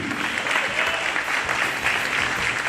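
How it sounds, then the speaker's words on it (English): Sustained applause from an audience at a career and technical education student signing ceremony, dense and steady clapping filling the room throughout. "let's give one more big round of applause for all of our students"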